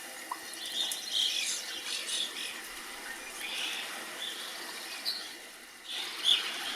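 Small birds chirp and tweet intermittently around a busy backyard bird feeder, with light high calls scattered over a quiet outdoor background.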